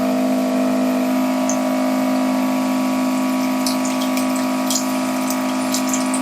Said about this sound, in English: it starts flushing cleaning liquid through the circuit and out of the tube